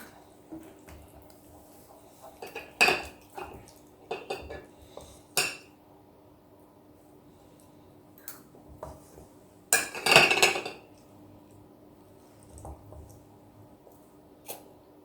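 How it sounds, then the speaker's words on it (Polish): Cheese is stirred into sauce in a dish for baked eggs with tuna, giving quiet, scattered clinks and scrapes of a utensil against the dish, with a couple of louder knocks. "Mieszam ser z sosem i wykładam na jajka."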